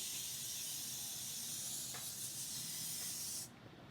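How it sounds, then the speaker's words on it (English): Setting spray misted over finished makeup: a steady, close, bright hissing spray held for about three and a half seconds, then cutting off abruptly into near silence. "Finishing the makeup off with some setting spray."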